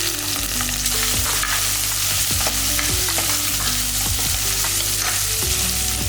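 Shallots, green chillies and garlic cloves sautéing in a pan, a loud, steady oily sizzle with occasional utensil scrapes and taps as the mixture is stirred.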